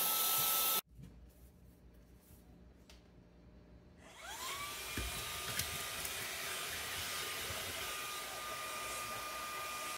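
A compact HOTO desk vacuum cleaner motor spins up with a rising whine and then runs steadily and loudly, a constant high-pitched whir with no talking.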